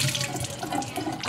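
Tap water runs steadily into a metal pot in a home kitchen, a continuous close splashing rush with no voices.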